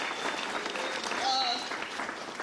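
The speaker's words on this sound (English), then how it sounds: "So give Mayor Karstafen a huge round of applause" Applause for the mayor at the opening of Philadelphia's PATCO Franklin Square station, a moderate steady wash of clapping with a faint voice or tone drifting through, continuous for a couple of seconds.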